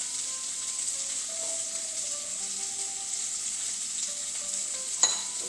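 Garlic, fennel and onion sautéing in olive oil in a pot for cioppino, giving a continuous soft sizzle with faint tonal hums and one sharp utensil knock near the end, with no one speaking.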